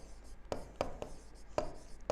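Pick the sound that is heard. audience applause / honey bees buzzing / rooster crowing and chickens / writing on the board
writing on the board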